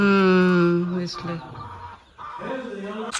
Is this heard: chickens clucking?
yes